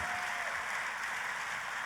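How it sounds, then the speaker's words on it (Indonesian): Sustained applause from a church congregation, a continuous wash of clapping at a steady level with no talking over it. "Katakan amin dan tepuk tangan yang paling meriah buat Tuhan kita."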